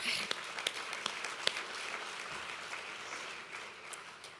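Audience applause at a National Philanthropy Day live show, a dense steady wash of many hands clapping with a few sharper individual claps standing out, sustained at moderate loudness throughout.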